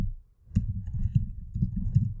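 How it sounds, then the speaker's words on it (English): An email address being typed on a computer keyboard, with a quick run of soft, muffled key clicks in an uneven rhythm, close and quiet. "So if I type in my email,"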